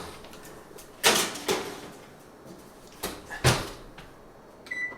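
An oven door bangs shut as bread rolls for keto ube pandesal go in, with several sharp clunks and knocks of the door and pan at close range in a quiet kitchen.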